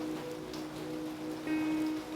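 Rain falls in a steady, even patter throughout, a soft continuous hiss with low tonal hum underneath and no talking, brightening slightly near the end.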